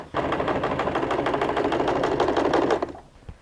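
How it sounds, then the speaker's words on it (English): A sewing machine runs a quarter-inch stitch through fabric for a wallet, its rapid needle chatter steady and close for about three seconds before stopping abruptly. "Now we go and sew a 1/4 inch stitch from here to here."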